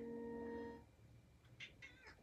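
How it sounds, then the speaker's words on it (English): A pet cat meows a few times, short high-pitched calls in the second half after a steady tonal game sound fades out, fairly quiet and close by. "Sorry if you hear meowing, that's just my cat."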